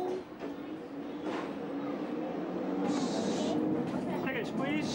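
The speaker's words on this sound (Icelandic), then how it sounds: "Og þá fer lestin af stað." Cartoon train from the Teletubbies pulling away, a rumbling mechanical rattle with a bright hissing burst partway through, mixed under an Icelandic voice narrating.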